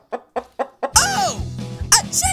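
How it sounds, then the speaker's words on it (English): A chicken in the video game Roblox gives four short rhythmic clucks, then a longer, louder squawking burst, close and clear. "Oh, a chicken? Where did a chicken come from?"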